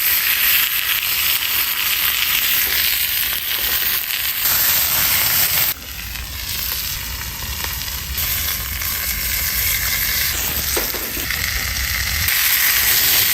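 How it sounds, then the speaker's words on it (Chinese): Steak sizzling and searing as it grills over an open wood fire in a fire pit stove, a loud, steady crackling hiss with small pops, continuous and close, with no voices. "火烤牛排"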